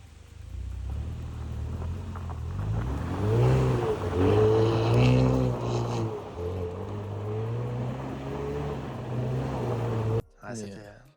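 Ford Focus RS Mk3 Stage 2 driven in drift mode in a forest, engine revving hard with rising and falling pitch close by, then cutting off abruptly near the end; a voice talks over it.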